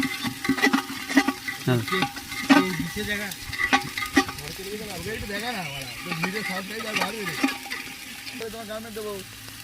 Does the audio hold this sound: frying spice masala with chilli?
yes